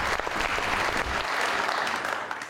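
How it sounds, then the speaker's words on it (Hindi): Studio audience applause welcoming a guest onto a Pakistani political talk show, dense clapping filling the whole stretch, fairly loud and with no voices. "बहुत सारी तालियों में आइए"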